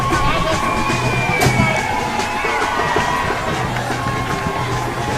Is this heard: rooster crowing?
no